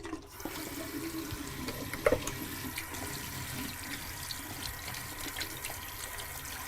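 Tap water runs steadily into a sink with soft splashing as paint-covered hands are washed, fairly quiet and continuous throughout.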